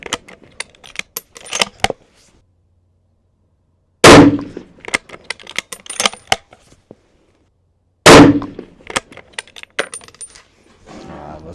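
A Winchester Model 70 push-feed rifle chambered in 257 Roberts fires two sharp, loud shots several seconds apart, each followed by brief echo, amid scattered handling clicks and rustles.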